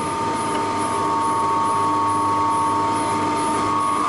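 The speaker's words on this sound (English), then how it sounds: "This, by the way, is a 20 kilowatt, three-phase, 400 volt alternator." A micro hydro turbine belt-drives a 20 kW, 400-volt three-phase alternator through a flat belt and pulleys, grid-connected. It makes a loud, constant mechanical hum with steady whining tones and no pauses.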